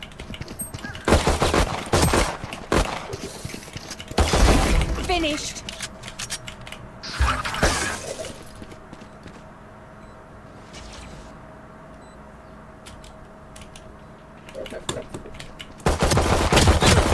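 Gunfire in a ranked tactical shooter game: loud bursts of rapid automatic fire in several clusters, separated by quieter stretches of game ambience, with a closing burst at the end.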